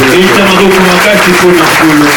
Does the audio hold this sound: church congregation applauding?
yes